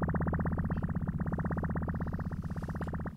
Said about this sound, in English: I'm just twirling the time knob at the moment.